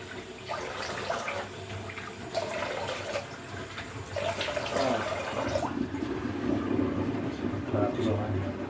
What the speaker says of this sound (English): Put it in the sink, some cold water on the face.